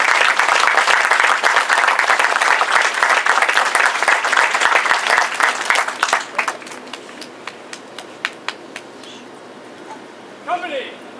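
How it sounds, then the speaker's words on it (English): Audience applause at a Marine Corps Combat Training graduation for Golf Company, a dense, loud wall of clapping for about six seconds that then thins into scattered claps and fades, with a brief voice near the end. "please join us in applauding the efforts of the combat instructors and permanent personnel of Company"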